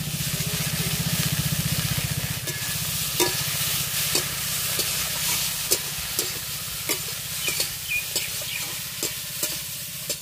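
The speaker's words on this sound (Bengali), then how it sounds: "ভালো করে নেড়ে চেড়ে মিশিয়ে নেব" Greens and chopped green chillies stirred and fried in a pan with turmeric and spices, a loud continuous sizzle broken by repeated spatula scrapes and taps against the pan, close and without voices.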